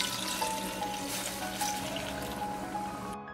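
Two cups of water pour steadily into a pot of goat curry, a soft continuous splashing trickle that cuts off abruptly at the end.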